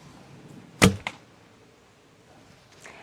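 An arrow loosed from a Hungarian-style bow with glass fiber inside, a single sharp thwack from the string followed by a brief second knock, then quiet room tone.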